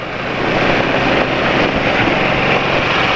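A Caterpillar diesel engine running on Fuchs Titan Truck Plus 15W-40 oil idles with a loud, steady, broadband roar and wind-like noise, close to the microphone and with no voices.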